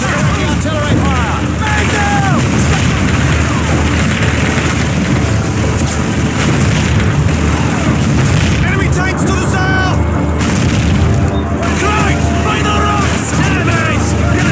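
Booming artillery explosions in the Call of Duty 2 mission Holding the Line, a dense, continuous rumble of blasts under shouting and battlefield babble throughout.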